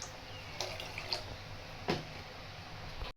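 500 ml of water pours into a pan sitting on the stove, a faint, close trickle and splash broken by a few small knocks, with no one speaking.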